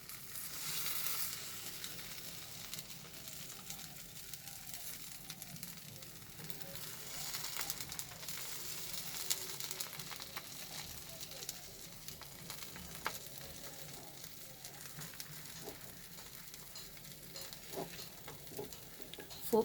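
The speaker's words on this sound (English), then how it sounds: "on a low flame I'll first place the bread slices," Bread slices toast in butter on a tawa over a low flame, making a faint, soft, continuous sizzle with occasional small crackles and clicks.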